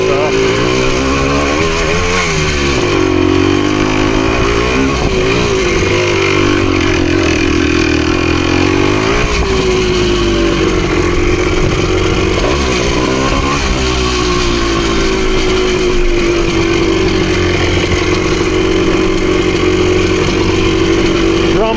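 A PE250 woods enduro motorcycle rides forest trails, its two-stroke engine droning loud and steady throughout with repeated rises and falls in revs as the throttle opens and closes.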